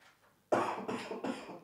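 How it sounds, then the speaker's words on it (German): A burst of several harsh coughs in quick succession, close and loud, following a moment of near silence. "hustet"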